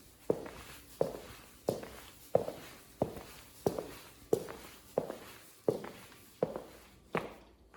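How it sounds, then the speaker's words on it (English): Steady footsteps in Nike Metcon 6 FlyEase CrossFit shoes, about a dozen evenly paced, fairly loud, crisp treads, each step a distinct slap on a hard floor with no talking. "Here's a noise test with the Nike Metcon 6 Fly Ease."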